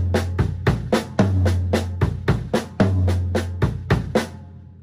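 A drum kit plays a repeating linear phrase of right, left, left, kick, kick, left, with crisp hand strokes and deep kick thumps in a quick syncopated rhythm, close and alone.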